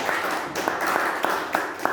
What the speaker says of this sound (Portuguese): Bate palmas para o Senhor Jesus